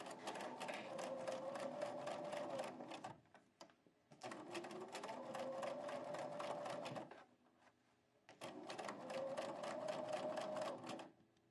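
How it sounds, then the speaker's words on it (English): A sewing machine stitches a quilt binding along a diagonal seam in three steady bursts of rapid, even whirring, each run about three seconds long with short pauses between them. "So now we're ready to sew on the diagonal line."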